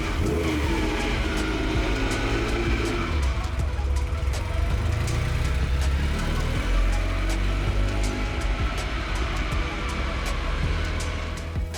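A 1977 Ferrari 308 GTB dry-sump V8 driving on a road, engine note rising and falling through revs with wind and road rumble, close and continuous without talk.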